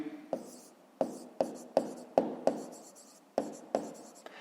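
Numbers written by hand in a fifth-grade math exercise: a pen taps and scratches close by on paper in a run of about nine quick strokes, each with a sharp onset and a short fading scrape.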